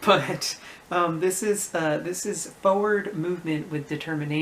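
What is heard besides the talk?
No everyday noise stands out behind the speech.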